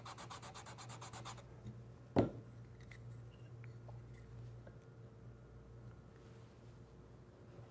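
A wooden tenon is rubbed with adhesive-backed sandpaper wrapped on a block during cabinet door joinery, giving soft, steady scratchy friction over a constant low hum, broken by one sharp knock partway through.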